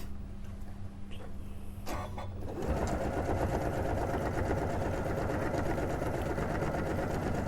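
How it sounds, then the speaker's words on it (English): A sewing machine starts up after a couple of seconds of quiet, then runs steadily with a fast, even mechanical whir and stitching rattle, close by. "That's a lovely sewing machine, isn't it?"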